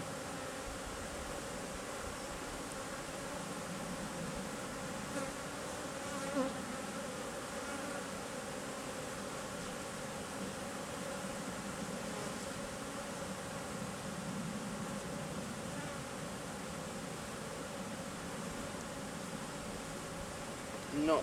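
Honey bees hum steadily around an open hive during an inspection, a dense continuous buzz close by with faint brief movements, at an even level throughout.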